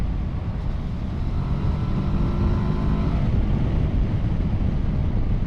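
A 2022 Kawasaki Versys 650 grand tourer motorcycle engine pulling through the gears near 3,000 RPM, a steady broadband drone heavy with wind rush, loud and continuous throughout without speech.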